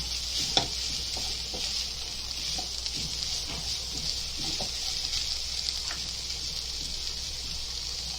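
A spoon stirs and scrapes through a frying aloo chicken kebab mixture in a pan, repeated clacks over a constant sizzle with no talking.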